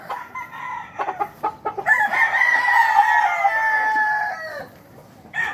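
Chickens on a farm in Lucena: a rooster crows one long, loud drawn-out call, surrounded by short clucks and squawks from nearby fowl, with no talking.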